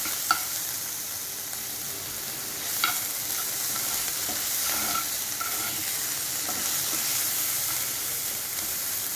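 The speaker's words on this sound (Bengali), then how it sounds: "আলু পেঁয়াজ রসুনের সঙ্গে ভালো করে মিশিয়ে দিচ্ছি।" Potatoes, onion, garlic and ginger paste frying in a pan for a cabbage curry, with a steady close sizzle and spatula scrapes and clinks as the mix is stirred.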